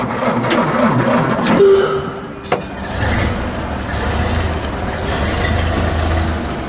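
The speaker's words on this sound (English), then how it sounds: "we hit our starter and pull the clutch" A 1929 Ford Model A roadster engine cranks over and starts, then settles into a steady, loud running rumble recorded up close, with no talking.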